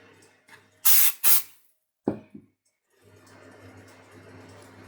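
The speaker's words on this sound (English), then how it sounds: "Give the fabric a light spray of temporary adhesive." Two short bursts of aerosol temporary adhesive sprayed onto fabric up close, followed by a couple of quieter knocks and faint background hum.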